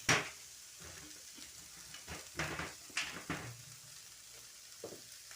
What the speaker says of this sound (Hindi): ये फटाफट मैंने अब इसको फ्राई करना है